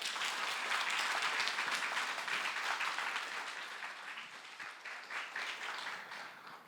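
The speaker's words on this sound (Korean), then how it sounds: "나오실 때 힘찬 박수로 목사님 환영하겠습니다." Applause welcoming a pastor to the front at a Korean Sunday church service, a dense, steady wash of many hands clapping that fades slightly toward the end.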